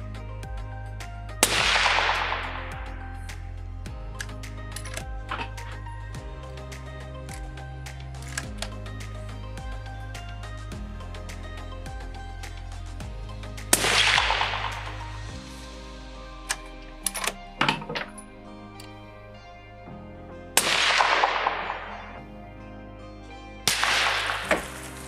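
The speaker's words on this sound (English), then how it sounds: "Now the next 3-shot group is fired." A rifle fires a three-shot group while zeroing a Leica Fortis 6 scope with a BDC turret. Three loud, sharp cracks, each with a ringing decay, are spaced several seconds apart over a steady low background hum.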